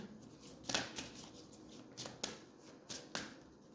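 A deck of tarot cards is shuffled close up, with several quick riffling bursts and crisp snaps spaced unevenly over a few seconds, quiet and alone.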